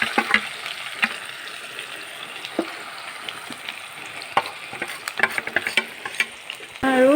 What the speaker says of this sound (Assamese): আৰু তেলখিনি মিক্স হ'বৰ কাৰণে অলপ লৰাই দিছোঁ।